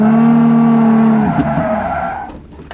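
An R33 GTR floored while circling, tires squealing loudly in a sustained high whine over the engine's roar, breaking into rougher scrubbing before fading near the end.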